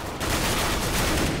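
Dense, sustained gunfire from the video game Counter-Strike, loud and continuous bursts of shots filling the whole moment without any talk over it.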